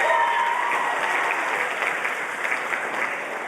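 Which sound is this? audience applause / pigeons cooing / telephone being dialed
audience applause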